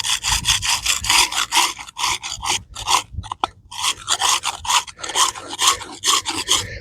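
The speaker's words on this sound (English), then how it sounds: "we're just going to scrape off with the plastic scraper" A plastic scraper rasps in quick, repeated strokes across a weathered, sugary marble headstone, close and rhythmic with brief pauses between bursts.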